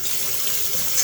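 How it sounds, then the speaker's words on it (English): Hot water runs from a tap into a bowl in a kitchen, a steady close hiss of flowing water with no talk. "run a little hot water"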